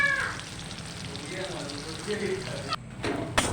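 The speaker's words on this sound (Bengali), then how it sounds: "পেঁয়াজটা লাল লাল করে ভেজে নেব" Onions frying in a pan for a home-cooked fish curry with potato and aubergine, a steady close crackling sizzle throughout with a few brief clatters and pauses near the end.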